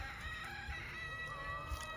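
Backyard chickens cluck in soft, scattered bursts close by, with a steady faint hiss in the background and no voices.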